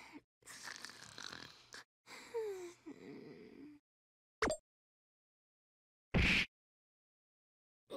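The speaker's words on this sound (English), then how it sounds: "You start snoring as soon as you get here?" A character snoring in the fighting game Blazblue Continuum Shift Extend, with wheezy breathy snores and gasps in uneven bursts, then a few short isolated snorts separated by silence.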